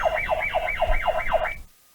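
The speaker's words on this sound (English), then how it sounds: "this thing has an alarm and it's pretty loud, but the volume is low right now" A loud electronic alarm from an indoor home security camera whoops up and down in a fast repeating cycle, then cuts off abruptly, leaving silence.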